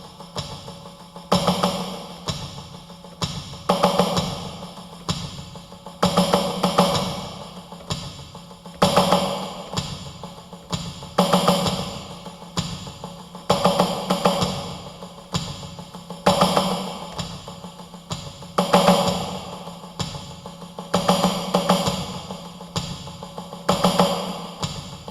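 A drum kit plays a steady, accented groove with regular emphasized hits recurring every couple of seconds, cymbal wash over kick and snare, close and alone without speech.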